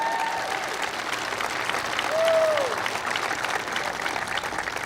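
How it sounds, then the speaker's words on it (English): Steady applause from a crowd welcoming guests at an outdoor speech by President Obama at the Port of Wilmington, a sustained wash of clapping that swells slightly midway. "Give them a big round of applause."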